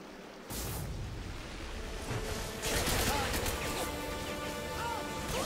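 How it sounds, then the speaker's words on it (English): A grenade explosion in the video game Hazard Ops bursts in with a sudden loud blast, then scattered crashes, debris and gunfire-like bangs rumble on through a dense, noisy battle mix. "Did someone just throw a grenade on me?"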